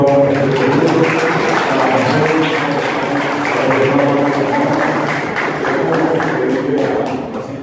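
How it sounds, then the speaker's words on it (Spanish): Sustained applause from an audience at a tribute ceremony in Paraguay, loud and continuous throughout with dense clapping that eases slightly near the end. "Un aplauso fuerte para"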